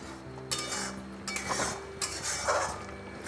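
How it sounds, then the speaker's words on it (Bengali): Metal spoon scraping and clinking in a pan while stirring yogurt masala with nuts for white Nawabi egg korma, a quick run of close, repeated scrapes and clinks over a soft continuous background. "এটা খুব করে আবারও নেড়ে দিলাম"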